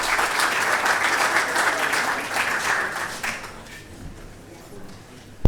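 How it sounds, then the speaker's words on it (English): Applause from an audience at an institute's opening ceremony, a dense steady patter for about three seconds that then fades away, with a faint voice underneath. "let's meet him with a round of applause"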